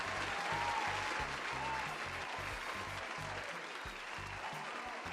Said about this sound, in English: I gotta play an applause because you just joined